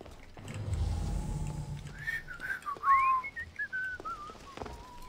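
A character in Assassin's Creed Odyssey gives a short, sharp whistle, a bright rising then falling call that follows a dull thud and some game sounds, with a lingering faint tone afterward.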